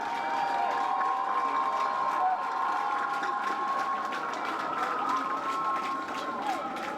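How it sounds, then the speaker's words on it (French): A distant crowd at a Haitian national police graduation ceremony applauds and cheers the new graduating class, a steady, fairly faint wash of clapping and voices. "Sous vos applaudissements."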